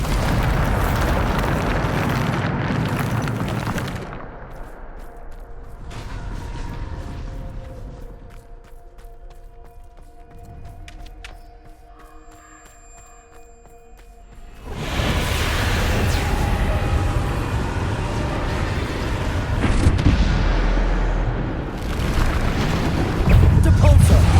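Bombarda spell blasts in the video game Hogwarts Legacy set off heavy, rumbling booms, loud at the start, easing into a quieter lull midway, then erupting again in a long, dense burst of explosions.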